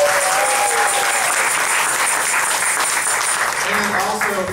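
Loud, sustained applause from a crowd, steady clapping throughout with a voice speaking over it near the end.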